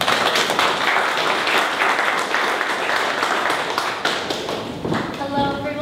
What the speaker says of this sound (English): please give a warm round of applause for myLoop all the way from Orlando